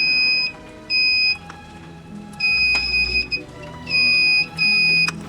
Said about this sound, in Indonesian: suara bip buzzer pada salah satu saklar kurang nyaring